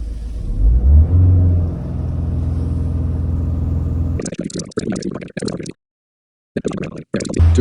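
A 2.0 diesel Ford Mondeo mk5 idles at raised engine speed during a static DPF regeneration, a steady low droning hum, then broken up by a person talking and short gaps near the end.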